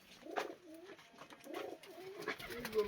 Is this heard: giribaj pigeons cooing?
yes